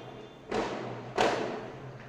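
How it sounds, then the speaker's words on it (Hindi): Firecrackers going off outdoors in the days before Diwali, two separate sharp thudding bangs about half a second apart, heard from a distance alone over a steady low hum. "यहाँ पे दिवाली के पहले ही पटाखे जलाने शुरू हो गए हैं"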